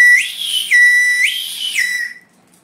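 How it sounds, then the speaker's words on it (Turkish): A shrill candy whistle is blown three times in quick succession, each note sliding up and down in pitch, loud and close, then fading out. "Düdüklü şeker."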